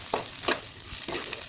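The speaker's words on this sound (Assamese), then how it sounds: "এতিয়া আমি দালিখিনি দিম দালিখিনি অকণমান ভাজি ল'ম" Onions and lentils frying in a pan give a steady close sizzle, with three distinct stirring scrapes in a loose rhythm.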